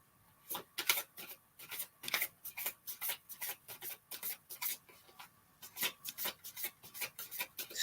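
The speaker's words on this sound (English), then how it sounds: "they're giving me a good old shuffle here" A deck of tarot cards is shuffled by hand in a series of quick, rhythmic riffling bursts, papery and close, repeating steadily with short pauses and no talking.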